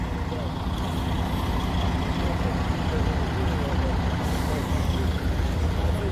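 Buses with air brakes idle at a crowded border crossing on the road from Ukraine into Hungary, a steady heavy diesel rumble with hissing. People talk over the noise throughout.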